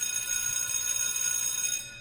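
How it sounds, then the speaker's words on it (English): A bell rings with a bright, sustained metallic tone that hangs steadily and then begins to fade at the end, heard alone without talk during a talk on life purpose. "I love this bell."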